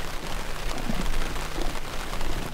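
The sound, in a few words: rain falling while fishing outdoors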